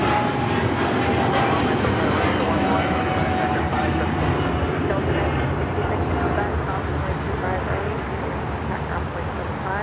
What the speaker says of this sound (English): Just had a United Dreamliner touchdown here coming in from Newark